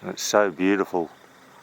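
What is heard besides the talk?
No everyday noise stands out behind the speech.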